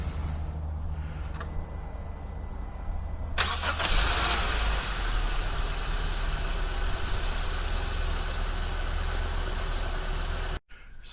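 A Honda car engine, started by remote start, cranks and catches partway through, then settles into a steady idle hum before cutting off abruptly near the end.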